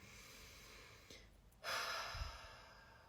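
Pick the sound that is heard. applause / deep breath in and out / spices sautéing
deep breath in and out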